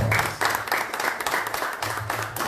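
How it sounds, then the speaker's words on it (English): A press conference audience applauds at a football club's season event, with moderate clapping that rises and dips in a few uneven bursts over a couple of seconds. "And give yourselves a round of applause."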